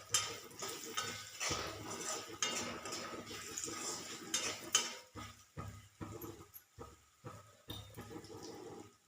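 Salt, turmeric and coriander-cumin powder dry roast with green chillies in a pan, stirred with quiet scraping and soft clatter; the first half sounds continuous and the second breaks into separate rhythmic strokes.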